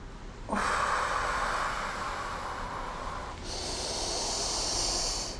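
Someone takes a slow, deep breath during a guided relaxation session: a long, airy inhale followed by a steady exhale, close to the mic and quiet.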